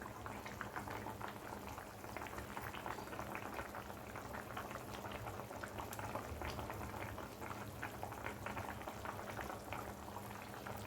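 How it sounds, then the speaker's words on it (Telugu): Tamarind fish stew (fish pulusu) with curry leaves boiling in a pot, a soft continuous bubbling and popping simmer, quiet and steady throughout with no voices. "కాసేపు అలాగా మరగనివ్వాలండి."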